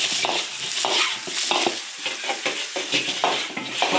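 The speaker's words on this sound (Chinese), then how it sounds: "腊肉炒香，炒出油。" Cured Chinese pork stir-fried in an iron wok with ginger, Sichuan pepper and chili, a loud, steady sizzle broken by repeated scraping stirs of the spatula, close up with no voices.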